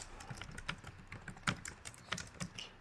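Quiet, close typing on a computer keyboard, with irregular clicks and small bursts of keystrokes running steadily throughout with no voice.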